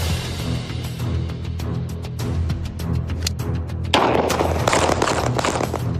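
Gunfire at an outdoor gun range, a string of sharp close shots in irregular succession, the last part louder and denser with rapid cracks, no talking.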